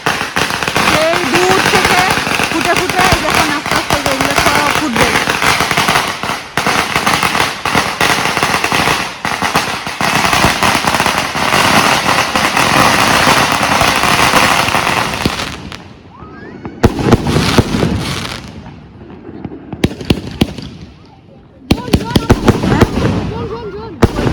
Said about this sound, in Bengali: এই যে শুরু হয়ে গেছে আতশবাজি